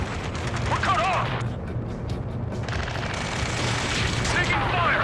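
Continuous gunfire and explosions in the combat flight game Ace Combat 7: Skies Unknown, a dense loud barrage under shouted radio chatter.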